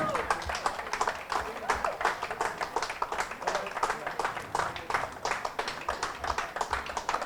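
A crowd at a cricket tournament clapping and cheering for the winning team, steady rhythmic clapping throughout with voices and shouts mixed in, moderately distant.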